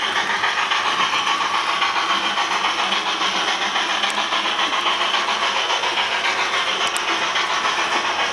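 A Rapido HO scale Royal Hudson model steam locomotive runs with a steady, rapid chuffing hiss and faint clicking of wheels, close and continuous throughout with no talk.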